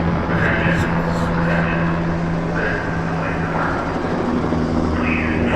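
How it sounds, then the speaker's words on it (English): A police helicopter flies overhead with a low, steady engine drone that persists throughout, with faint voices and background noise mixed in. "This police helicopter keeps flying by."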